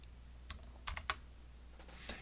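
Keystrokes on a computer keyboard while entering a sum formula into a spreadsheet, several quiet, irregular clicks and taps spread across the moment with pauses between them, no talking.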